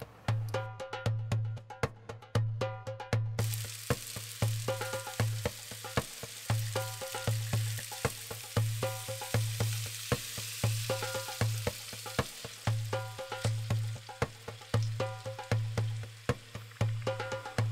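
Soaked rice lightly sautéed in a pot for kabsa, a steady close sizzle cut by quick, regular spoon scrapes and clinks against the metal, with a low constant hum beneath and no voices.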